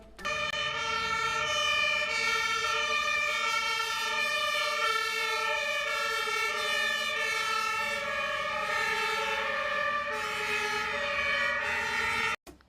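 A loud fire engine siren wails steadily with rich harmonic tones, continuous and close for about twelve seconds before cutting off abruptly.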